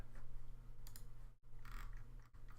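A single mouse click on an edit button while working on a computer, with a faint low hum and a couple of brief clicks standing out over quiet room noise.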